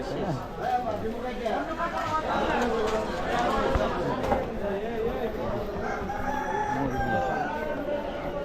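Chickens cluck and a rooster crows at a poultry stall in a busy Bangladeshi market in winter, faint against constant crowd chatter and nearby voices.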